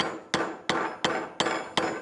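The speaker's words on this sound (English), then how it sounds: "use the screwdriver and the hammer like we removed the other one and just bring it back out" A hammer taps a screwdriver to back off the pressing plate of a motorcycle chain breaker tool, giving six sharp metallic strikes at a steady rhythm, close and distinct with no talk.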